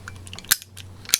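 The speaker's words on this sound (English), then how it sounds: "I believe you need to dry fire the weapon" Two sharp metallic clicks about half a second apart from an OMC Backup .380 pistol being dry fired, close and quiet, with small handling noises between them.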